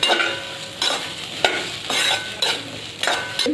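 Okra with crushed peanuts dry-roasting in a pan, stirred in a run of distinct scraping strokes about every half second over a soft background sizzle, close and fairly loud.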